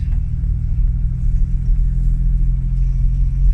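A 1969 Jaguar E-Type Series 2 2+2 engine hums as a steady, loud low rumble from inside the car while driving, smooth and even with no talk over it.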